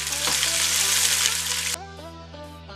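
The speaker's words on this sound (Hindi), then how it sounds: "प्याज को हमने ब्राउन की तरफ लेकर आना है।" Two medium sliced onions sizzling loudly in hot oil in a pan, a dense continuous fry that drops to a softer crackle near the end as stirring begins, with music playing underneath.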